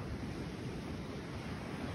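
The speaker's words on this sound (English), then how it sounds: "I get real annoyed with the waves." Ocean surf washes continuously against a rocky beach at Hat Head, a dense, steady roar with no breaks, faint and distant, mixed with wind.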